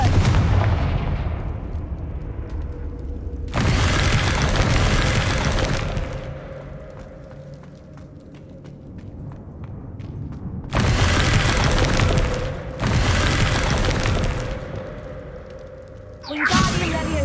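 Confringo fire spell blasts in the Hogwarts Legacy game land as heavy booming whooshes, several loud bursts in a row with brief gaps of quieter rumble between them.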